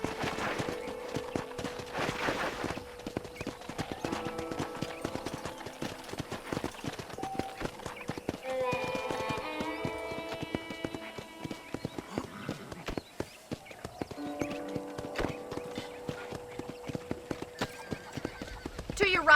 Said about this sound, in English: Okay, let's see if you can still ride a horse.